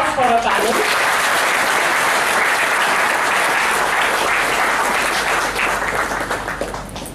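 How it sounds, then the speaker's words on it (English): Loud, sustained audience applause for a panel at an inaugural session, dense clapping from a large room that holds steady for several seconds before gradually thinning out. "give a very loud round of applause for our panel"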